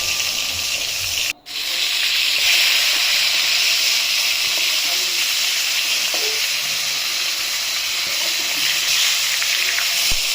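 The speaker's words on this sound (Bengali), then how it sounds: "এখন আমি বেগুনগুলো ভেজে নিব।" Eggplant slices frying in hot oil, a loud steady hissing sizzle that holds for ten seconds and is briefly cut off by a quick dropout near the start, with no voices.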